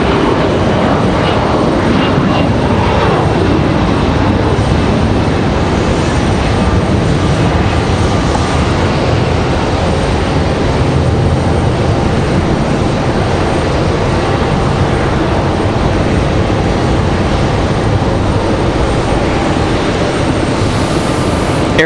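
Airliners at Raleigh-Durham International Airport fill the air with a loud, steady jet engine roar that holds without a break from start to finish, with no voices.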